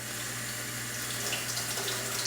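Cold water running steadily from a tap over a wine bottle, a continuous close hiss and splash with no talk.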